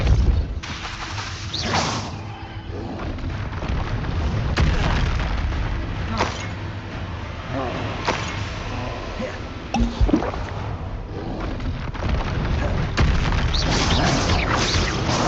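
Spells and explosions in the Hogwarts Legacy video game: repeated booms, whooshes and crashing bursts in dense succession, loud and continuous with a few sharp hits.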